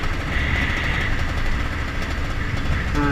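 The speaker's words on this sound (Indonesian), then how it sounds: "saya senang dengan ciri khasnya suara motor 2 tak ya, bising-bising nggak jelas gitu" A two-stroke motorcycle engine runs steadily with a loud, dense, buzzy drone and a rough idle, close by, with no talking.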